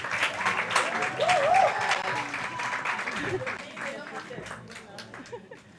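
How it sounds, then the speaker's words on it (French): Cinema audience at the Saint-André des Arts in Paris applauds after a film screening, scattered clapping mixed with crowd chatter and a little laughter while voices talk over it. "On applaudit aussi pour le Burkina Faso,"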